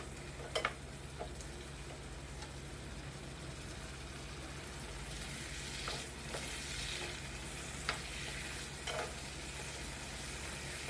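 Fifteen to twenty green chillies fry in a pan for tomato pachadi, a soft, steady sizzle with occasional light clicks of stirring, quiet and without voices.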